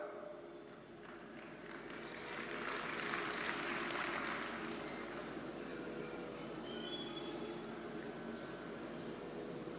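An audience claps during a Hindu religious discourse. The applause is a steady wash of many hands that swells in the middle of the clip and then settles, with a faint voice underneath.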